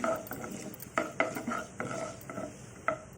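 Tempering spices and chillies fry in a pan with a soft sizzle, broken by several sharp utensil scrapes and taps at irregular intervals, fairly quiet and close with no talk.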